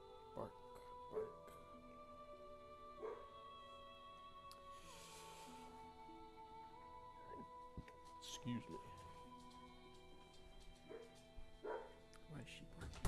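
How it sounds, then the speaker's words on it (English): A female dog barking in a few short, scattered yips and woofs, fairly faint and mixed under a person talking, with other tonal background sounds running throughout. "Why is she barking?"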